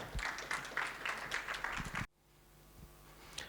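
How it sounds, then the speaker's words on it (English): An audience at a summit applauds to welcome a speaker on stage, a dense burst of many hands clapping that cuts off abruptly about two seconds in, leaving quiet room tone. "help me welcome Moses Kemibaro on stage with a clap"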